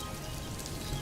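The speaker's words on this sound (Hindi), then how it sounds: "दूसरी तरफ राघु बारिश में भीगते हुए अपने खेत में बारिश के पानी के बहाव के लिए रास्ता बनाता है।" Rain pours steadily onto a farm field in a cartoon scene, a dense even hiss of falling drops with no pauses or other sounds.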